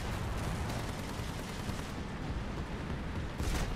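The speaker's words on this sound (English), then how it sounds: "you get to hear the beautiful gunshots." Tank gunfire in the video game War Thunder, heard from a third-person view as dense, loud, continuous booming and rumbling blasts that fill the whole stretch.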